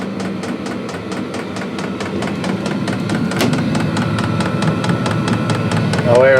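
Diesel heater running just after ignition in a DIY truck camper build: a steady blower roar with rapid, regular ticking pulses from the fuel pump, close and continuous, with a voice talking over it.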